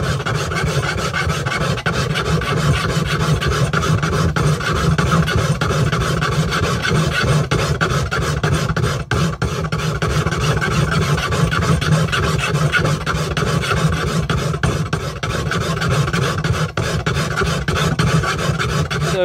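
A file rasps against a steel machete blade in steady, repeated strokes while shaping a bevel, a continuous scraping rhythm that goes on without pause.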